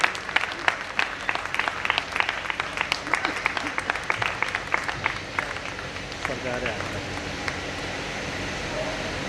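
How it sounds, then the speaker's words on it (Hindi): An audience claps loudly at a stage performance, dense crisp claps rolling on for several seconds before thinning into a softer wash, with voices underneath. "जोरदार ताली"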